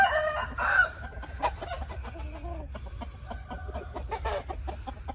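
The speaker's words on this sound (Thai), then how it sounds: "วันนี้จะพาชมไก่หนุ่มดาวรุ่งที่ซุ้มตีนะครับ" Several young fighting roosters cluck busily and crow nearby, overlapping in a constant chorus over a low rumble.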